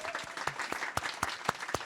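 Conference audience at a Django Day lightning talk session in Copenhagen claps in a short burst, rhythmic individual claps close and moderately loud, with no talking over them.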